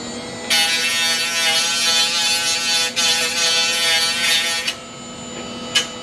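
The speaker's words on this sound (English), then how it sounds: "After about another 15-20 minutes of grinding it down with the die grinder" A die grinder fitted with a sandpaper grinding wheel grinds down a part for a double-DIN dash kit in a 1996 Impala SS. It gives a close, loud, steady high-pitched whine for about four seconds, then cuts out, leaving a brief fainter burst near the end.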